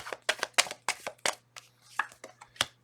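A deck of tarot cards being shuffled close up, a quick series of crisp riffling snaps and flicks in an uneven rhythm over a faint steady hum.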